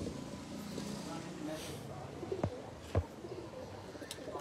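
Teddy pigeons at a breeder's loft coo softly in low, repeated calls beneath a steady background hum, with people talking nearby.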